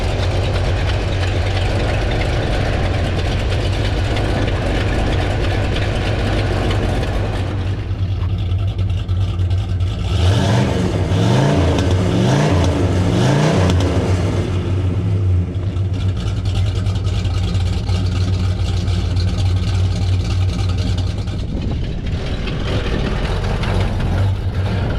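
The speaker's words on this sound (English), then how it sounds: "this Pontiac is a whole lot of fun to drive, so check out these videos and clips of Sal taking it down the road" A 1966 Pontiac Grand Prix with a 6.4L 389 V8 and four-speed rumbles loudly down the road, a deep steady drone that rises and falls through a burst of revving in the middle before settling back to cruising.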